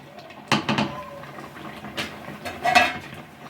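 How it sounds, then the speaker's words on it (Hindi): A lid is set onto a pot of cooking carrot halwa, giving a few close metallic clanks and rattles, with a softer clink in between and another near the end. "फिर से इसके ऊपर लेड लगा लेंगे और फिर से इसे पकाएंगे"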